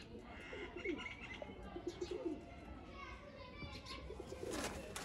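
Golden pigeons coo in low, rolling phrases several times among other bird chirps, with children's voices and chatter running underneath throughout.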